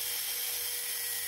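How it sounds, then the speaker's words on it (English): A drill spins a flap sander against bronze castings, giving a close, steady high-pitched whir with an abrasive hiss throughout this short stretch. "At the top ends, I used flap sanders in a drill,"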